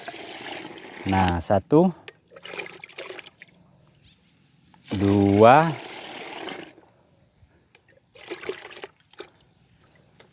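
Water is poured in two short bursts into a sprayer mixing container for weed spraying in a rice paddy, the splashing surrounded by brief spoken remarks and quieter trickles.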